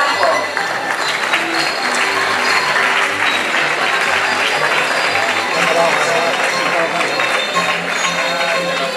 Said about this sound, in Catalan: Despedir amb un fort aplaudiment a la falla El Charco.